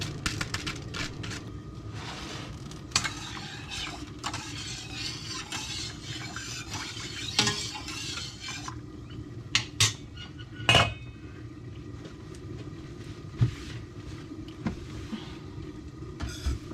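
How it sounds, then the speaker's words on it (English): Shrimp curry with scallions and sijan being stirred in a pot, a spoon scraping and clinking against the metal in irregular bursts, close and fairly quiet, with a few sharper knocks. "We're gonna give that a little mix."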